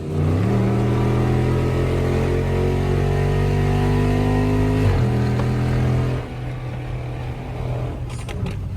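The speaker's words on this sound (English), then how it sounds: "My car loud as hell, y'all." A tuned Dodge Charger SRT Hellcat on the highway gives a loud, steady engine drone with rising pitch under acceleration, then a brief dip and a lower, burbling cruise toward the end.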